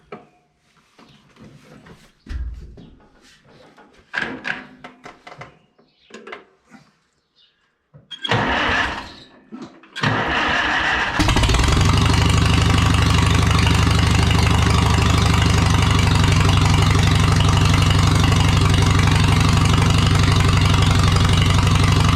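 A Farmall H tractor engine is cranked and fires up after some quieter handling sounds, then settles into a loud, steady, rumbling idle that runs on without a break.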